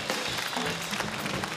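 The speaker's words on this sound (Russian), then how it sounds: "Особенно аплодируют наши английские друзья, которых здесь у нас много в студии." Studio audience applause on a 1998 Russian lotto TV game show, a dense, steady burst of clapping that fills the short clip without any talk over it.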